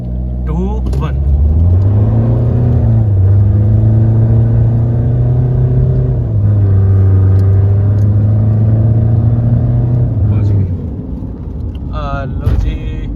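A modified Mahindra XUV500 with AC off, traction off and in D mode roars through a 0-100 drag run, its loud engine rising steadily through the gears with brief shifts before easing off near the end.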